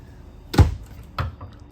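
Cabinet door under a kitchen island in a 2019 Mesa Ridge 427BHS RV being opened, two short close wooden knocks about half a second apart, with no talking.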